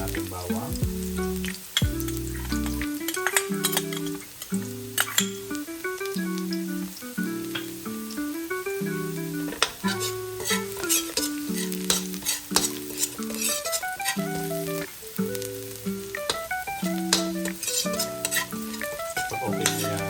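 Garlic sautéing in a pan for menudo makes a steady close sizzle with occasional stirring scrapes, running continuously beneath background music.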